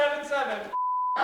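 A single steady electronic timer beep sounds in a shop egg-drop challenge. It is short and clear, with people talking on either side of it.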